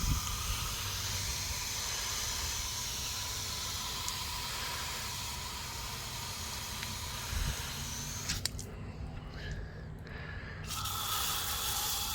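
Super Clean degreaser is sprayed onto a grimy car wheel, producing a continuous soft hiss of spray that runs steadily and fairly faint, with a brief change near the end.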